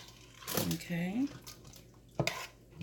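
Pasta stirred in a pot while cooking olive oil pasta, with a few scraping clinks of utensil against metal. A person talks between the stirs, and a sharper knock comes near the end.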